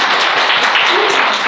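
Congregation in a church applauding together, a dense, steady wash of many hands clapping at once that stays loud and even, with no distinct single claps standing out.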